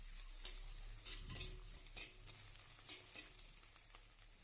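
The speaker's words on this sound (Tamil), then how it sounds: "இந்த டைமில் பச்சை மிளகாயும் பூண்டும் சேர்த்திக்கங்க அதுக்கப்புறம் இஞ்சி எடுத்து வச்சுருக்கிறோம்ல அதையும் சேர்த்து நல்லா வதக்கி விட்டுருங்க" Green chillies, garlic and ginger sautéing in a pan for paneer butter masala, with a steady faint sizzle and occasional scrapes of a stirring spoon, no voices.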